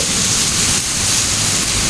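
A brief stretch of heavy Singapore downpour near a sheltered walkway: a loud, steady wash of rain hitting surfaces, constant and close.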